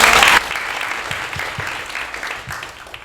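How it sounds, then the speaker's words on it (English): Applause from an audience, starting with a loud burst of clapping that quickly drops to a softer, steady patter for the remaining few seconds. "Give yourself a round of applause."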